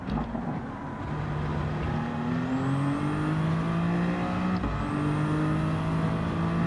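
Racing engines in Gran Turismo 7, including a Corvette just out of the pits, a steady rising engine drone with gear changes as the cars accelerate, loud and continuous.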